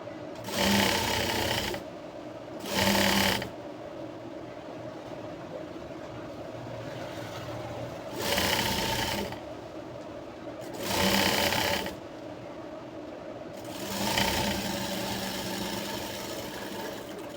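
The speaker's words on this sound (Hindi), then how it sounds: "पहले कपड़े को हम दोनों पल्ले को इस तरह से सी के ले लेंगे, जॉइंट करके ले लेंगे, सीधे पे सिलाई करेंगे," A sewing machine stitching fabric for a jumpsuit runs in four or five loud, steady whirring bursts of one to two seconds each, separated by quieter pauses.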